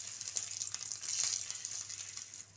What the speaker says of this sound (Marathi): त्यात थोडंसं तूप टाकलं आहे त्याच्यामध्ये ड्रायफ्रूट घालायचे